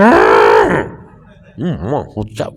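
Cow lowing loudly up close with one long drawn-out moo, then a pause and a few shorter wavering calls, likely the same animal, ending in brief higher squeaks.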